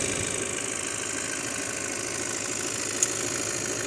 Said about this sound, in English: Lovely, smooth sounding engine.